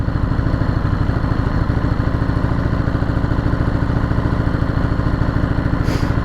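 Engine of a 2022 Ducati Monster 950 motorcycle running loud and close, a steady throbbing, pulsing drone with a rapid even beat throughout and no voices.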